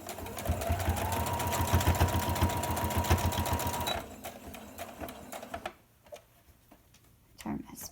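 A sewing machine stitches the sides of a face mask, giving a fast, even mechanical whir for about four seconds before stopping. Quieter handling noises follow.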